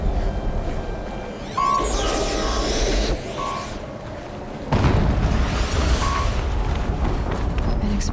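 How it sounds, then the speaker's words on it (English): Heavy explosions in the video game Horizon Zero Dawn, with deep booming blasts at the start and a louder burst midway, followed by rumbling debris and game effects layered over a dense low roar. "An explosion."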